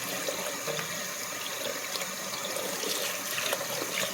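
Water trickles and sloshes steadily as dewberries are washed in a bowl, the overflow carrying debris over the rim, a continuous close-up splashing with no talk.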